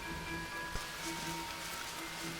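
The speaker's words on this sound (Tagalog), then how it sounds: "Umuulan nga." Steady rain falls in the Green Hell survival game, set in the Amazon jungle. It makes an even, soft hiss throughout, with one small thump partway through.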